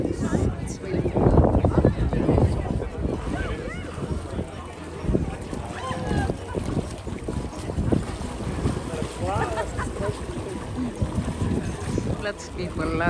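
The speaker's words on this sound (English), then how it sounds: "It's windy." Strong wind buffets the microphone outdoors in Iceland near the Blue Lagoon, a continuous low rumble with gusty surges throughout, while people talk over it.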